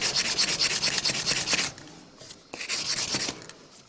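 Fine sandpaper rubbing back and forth on a folding knife held in a vise, a close, steady series of rapid gritty strokes that stops for about a second and then resumes.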